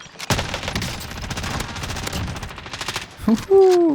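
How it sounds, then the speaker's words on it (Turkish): Rapid automatic gunfire rattles out in Call of Duty Warzone, a dense close burst of shots lasting about three seconds before a brief game tone. "Bu silah cidden çok hızlı tarıyor."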